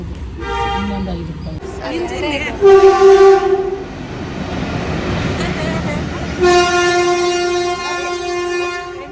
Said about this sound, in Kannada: ಟ್ರೈನ್ ಬಂತು ಟ್ರೈನ್ ಬಂತು ಕಡೆಗೂ ಹಾಫ್ ಆನ್ ಅವರ್ ಲೇಟ್ ಆಗಿದೆ ಟ್ರೈನ್ ಸೌಂಡ್ ಮಾಡ್ತಾ ಇದೆ